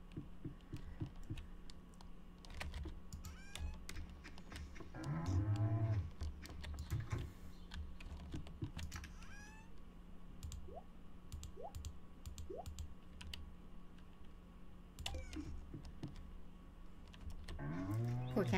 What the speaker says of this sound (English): Poor cow is traumatized.